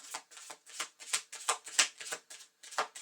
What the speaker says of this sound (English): Have I shuffled them properly enough?